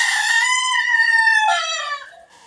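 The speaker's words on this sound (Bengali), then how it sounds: "আমার মোরগ একটু আগে যে হালকা ডাক দিয়েছে" A single loud rooster crow rings out nearby, a sustained harmonic call that bends downward and fades at the end.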